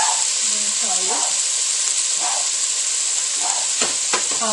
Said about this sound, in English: And we're going to saute it over medium-high for 10 minutes.